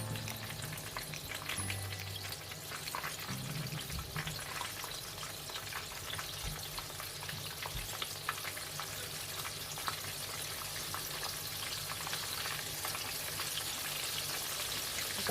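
Coated chicken strips frying in hot oil give a steady, even crackling sizzle that holds at a moderate level throughout, with no voices.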